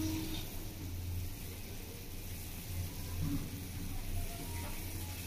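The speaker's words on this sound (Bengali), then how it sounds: "এইভাবে রসটা আমি ফুটিয়ে নেবো।" Sugar syrup for gulab jamun bubbling in a pot, a steady low simmering burble throughout, faint and continuous with no voices.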